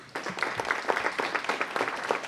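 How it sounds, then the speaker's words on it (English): A council meeting audience gives a round of applause, a short burst of many hands clapping with audible individual claps, fairly close and loud throughout. "Let's give them a round of applause."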